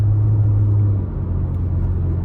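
A 2025 Ford Ranger Raptor engine drones in a steady, loud low rumble while the truck accelerates on a road, with no voices over it.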